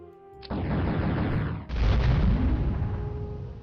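Two heavy artillery booms from a video game land in quick succession, each a loud, deep blast trailing off into a long rumbling decay.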